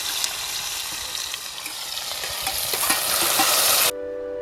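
Garlic and onion frying in a tempering at an outdoor family cooking gathering in a village farm setting, a continuous close sizzle with stirring scrapes and occasional pops, ending abruptly.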